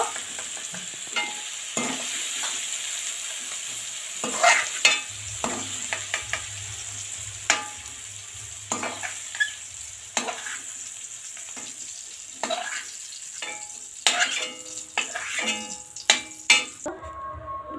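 Beans being stirred and fried in a pan, with a steady sizzle under repeated scraping and clinking strokes of a utensil, close and moderately loud, with no talking.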